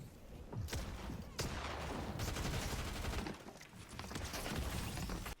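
Rapid gunfire from a shooter video game, bursts of shots crackling almost continuously with short pauses between volleys, loud and close with faint talk underneath.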